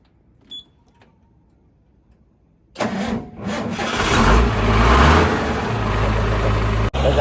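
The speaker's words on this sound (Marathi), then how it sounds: "गाडी झाली चालू." In freezing cold, a vehicle's starter cranks after near silence and the engine catches, then runs loudly and steadily at a close idle with a brief dip near the end.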